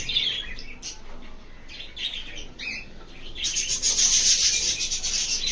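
Pet birds bathing and calling to one another, with bright chirps and raspy chattering calls that come in bursts, close by, growing denser and louder toward the end, along with soft scratchy rubbing sounds.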